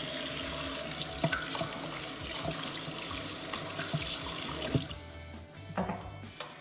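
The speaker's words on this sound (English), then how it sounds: "I'm just gonna rinse my hands. And get all this out from my sink." Tap water runs steadily into a bathroom sink while hands are rinsed under it, a continuous moderate splashing with small clunks and drips, easing off near the end.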